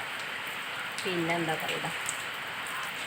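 Steady rain falls in Tirupur as an even, close wash of noise, with a person briefly speaking over it midway.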